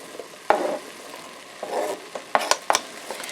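Chili in a pot on a gas stove in an off-grid cabin, heard as a soft, steady simmering hiss with a few scattered stirring scrapes and light clinks of a utensil against the pot, with no talking.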